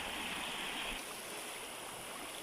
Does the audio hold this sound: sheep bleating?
no